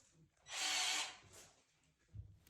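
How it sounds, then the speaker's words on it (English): A power drill bores a hole for a doorknob during a house renovation: one short, fairly quiet burst of about half a second, with faint room noise and no talking. "it's as simple as laying out where the holes and drilling your holes"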